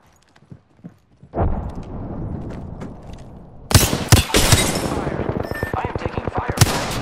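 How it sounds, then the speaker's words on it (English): Video game gunfire: after a few quiet taps, a roaring burst of noise comes up, then rapid, loud volleys of automatic shots rattle in dense bursts, close and sharp, with no voices over them. "I am taking fire."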